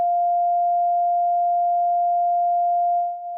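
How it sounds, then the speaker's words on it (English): An NTSC Atari 2600 console plays a single F5 note as a pure, steady electronic tone, loud and unwavering for about three seconds before it dips briefly at the end, with no talking. "On an NTSC Atari 2600, it would sound like this."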